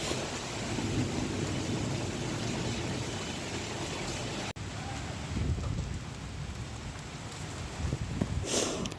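Kalbaishakhi thunderstorm with rain falling hard during a power cut, a steady dense roar of downpour with low rumbling underneath and a brief break in the middle, no voices.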